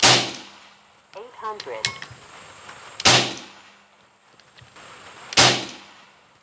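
An AEA Challenger Pro air rifle firing 60g Altaros slugs, three sharp loud cracks spaced a couple of seconds apart, each followed by a short decay, with a brief spoken word between shots.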